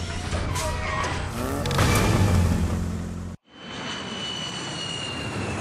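A supersonic jet airplane roars past as a loud, broad rushing whoosh that swells, then cuts off abruptly before a quieter, steady airy rumble carries on.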